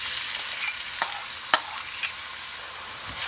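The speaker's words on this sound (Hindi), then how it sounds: "मिक्स कर लेंगे और हमने अनियन को फ्राई करना है।" Chopped large onion fries in hot oil in a pan, a soft, steady sizzle with a few sharp scrapes and taps as it is stirred, with no talking.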